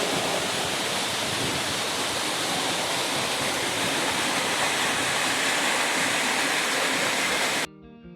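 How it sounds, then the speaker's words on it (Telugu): The Ranajilleda waterfall pours in a loud, steady rush of falling water heard up close, unbroken for several seconds before cutting off abruptly at the end. "మనం ఇప్పుడు రణజిల్లేడు వాటర్ ఫాల్స్ దగ్గర ఉన్నాం. అదిగోటి వాటర్ ఫాల్ మన వెనక కనబడుతుంది"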